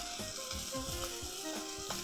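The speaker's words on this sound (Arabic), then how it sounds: "وكل شويه هنشوحه كده الكرات مع الثوم" Leeks and garlic sauté in a pan with a continuous bright sizzle, broken by brief squeaky scrapes of a utensil stirring them, close and with no voices.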